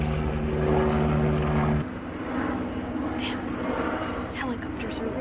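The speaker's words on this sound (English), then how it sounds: "helicopters are really loud." A helicopter passes overhead, a steady low rotor drone with a strong pulsing hum that drops partway through, moderately loud, while a person talks over it.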